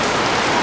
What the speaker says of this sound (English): All of a sudden, it is just downpouring. The rain is coming down.